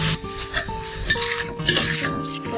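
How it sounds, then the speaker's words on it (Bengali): Bitter gourd pieces tumble into a pan of fish, with clinks of a utensil against the pan, stirring scrapes and a low sizzle underneath, moderately close. "আর আমি এর মধ্যে এখন করলাগুলো দিয়ে দিই"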